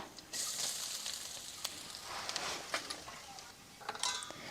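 Grated coconut roasting with spices in a pan, a soft crackling sizzle with scattered stirring scrapes, close and quiet, with no clear speech.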